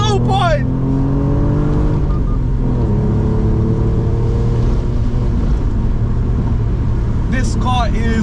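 A BMW E46 engine drones steadily and loudly throughout, with a sustained low rumble and shifting tones as it revs, like a sporty car heard from inside.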